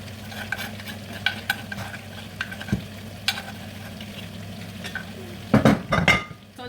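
Beans and crayfish stirred in a pot over a low gas flame, soft scraping spoon strokes and clinks against the pot over a gentle sizzle, ending in a louder burst of clattering, with no voices.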